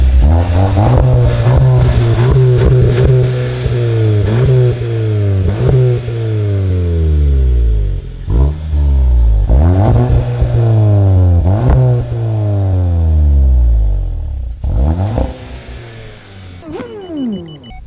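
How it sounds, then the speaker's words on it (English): A VW Golf GTI Mk7.5 engine revs hard through several gears, the exhaust note rising in pitch then dropping with each shift, loud and close, with a deep rumbling tone. "Have a listen of the exhaust, actually, the exhaust note."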